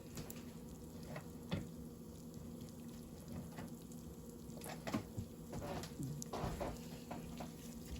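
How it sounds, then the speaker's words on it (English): Food frying in a pan and stirred with a spoon, soft scrapes and light clinks over a faint, steady sizzle, quiet and close with no talk. "So now we're going to stir"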